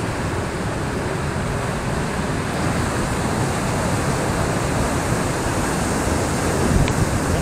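Rushing water surrounds a coracle ride near Hogenakkal Falls, a loud, continuous broadband roar that stays steady and swells slightly at the end, with no talking.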